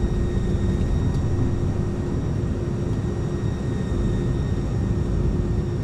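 FedEx airliner engines on approach in Microsoft Flight Simulator, heard as a steady, even drone with no talk over it.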